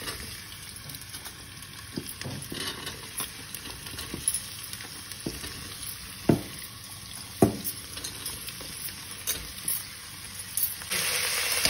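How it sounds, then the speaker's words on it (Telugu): Mixed vegetables for a pulao fry and get stirred in a pan, a steady close sizzle broken by scattered scraping knocks of a spoon against the pan, with no talking. "కూరగాయలన్నీ వేగుతున్నాయి."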